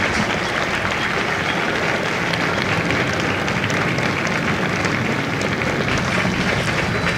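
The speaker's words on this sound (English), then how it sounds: "a round of applause for their dedicated service to corps and country" Sustained, dense applause from a large audience honoring Marine veterans at a Bravo Company recruit graduation at MCRD San Diego, steady and loud throughout without speech.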